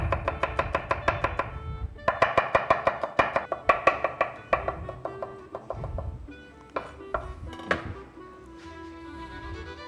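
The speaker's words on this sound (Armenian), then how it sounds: "Սխտոր կտրատենք մի քիչ։" A knife chops garlic on a cutting board in a kitchen, a quick run of sharp, close taps that speed into bursts, pause, then resume in slower, scattered strikes, loud and alone without talk.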